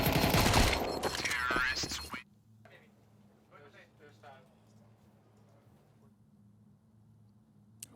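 Gunfire in a Counter-Strike match: a dense burst of loud shots for the first two seconds, then a low hum under a few faint sounds and a last sharp click, with a voice talking over part of it.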